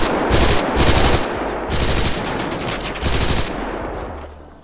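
Video game shootout gunfire in repeated bursts of rapid automatic fire, several dense volleys close and loud with short gaps between them, fading at the end.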